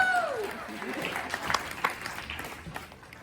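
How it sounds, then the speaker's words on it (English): Audience applause at a live talk, rising behind a voice and a tonal sweep, then continuing as a moderate, scattered patter of clapping that slowly fades. "let's give him a preemptive round of applause"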